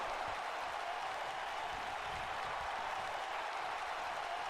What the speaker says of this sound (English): Firing up this crowd.